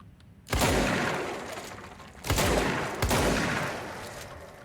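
Heavy gunfire in the video game Control, with three loud, punchy blasts and bursts, each trailing into a long crashing decay of debris and shattering, close and dominant with no talking.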